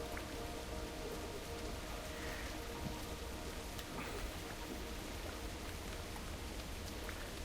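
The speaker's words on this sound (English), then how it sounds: "It's raining." Steady rain falling outdoors, an even, continuous hiss of drops on surfaces with no breaks, heard alone without any talk.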